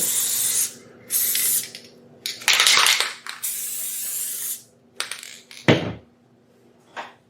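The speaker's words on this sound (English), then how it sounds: "Simply apply your spray, or whatever adhesive you're using." Several short bursts of hissing spray from an aerosol adhesive can, separated by pauses, with a brief clatter partway through.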